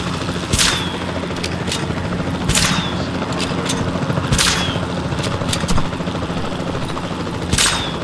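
Tranquilizer gun shots fired at dinosaurs in a video game ring out as sharp, separate cracks, about half a dozen spaced irregularly over a constant loud droning background.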